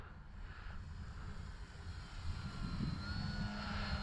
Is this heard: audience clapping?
no